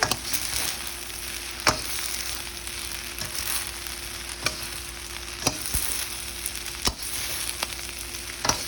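Shrimp fried rice with sesame seeds sautéing in a hot pan, a steady close sizzle punctuated by sharp, regularly spaced spatula knocks against the metal.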